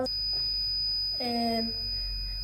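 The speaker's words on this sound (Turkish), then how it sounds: "buzzer 5 saniye ötüyor" An Arduino fire alarm buzzer sounds a steady, piercing high electronic tone, joined midway by a brief burst of lower harmonic tones, with a low background hum throughout.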